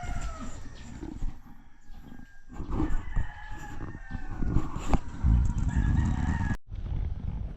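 Native chickens outdoors near a subdivision, several birds clucking and calling with rooster crows rising over a busy, fluctuating background, fairly close.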